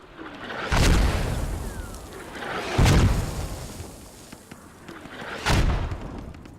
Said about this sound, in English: And you can see mortars spelling trouble for Karma and Makos